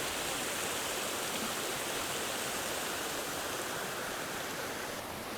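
Clear mountain creek water rushes steadily around someone wading through it, a soft, continuous broadband wash with no talking.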